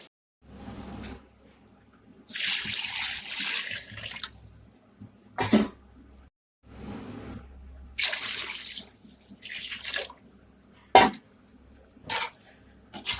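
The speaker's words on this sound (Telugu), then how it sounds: "అప్పుడు ఇంకా మనం వాటర్ వేసుకోవాలి" Water is poured in several bursts into a metal pot for cooking biryani rice, splashing, with short clanks of cookware between the pours.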